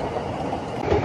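A train passes in Tokyo, a brief steady rumble with a faint rolling clatter heard from a short distance, with no speech.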